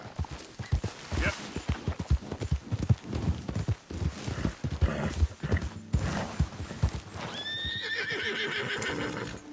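Horse hooves clip-clopping in a video game, a rapid steady trot of clear close hoofbeats, followed near the end by a loud neigh, with a voice talking briefly alongside.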